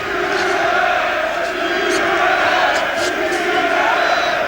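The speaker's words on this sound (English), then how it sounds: "that's the loudest cheer that Eubank, I'm sure, has had in his career" A boxing arena crowd roars and cheers for Chris Eubank, a big sustained wall of massed voices with whoops and shouts rising through it, loud and unbroken throughout.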